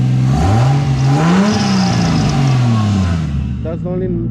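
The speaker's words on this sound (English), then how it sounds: "it's still making the noise when I rev it up" A 2JZ-swapped Chrysler 300 engine revs up and settles close by, its pitch rising and falling in smooth sweeps, with a whirring compressor bearing noise riding over it and a short burst of sharper revving near the end.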